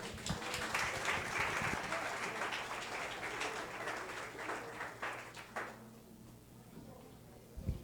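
A church congregation applauds together, a dense wash of clapping that gradually thins and fades out, with a low hum beneath.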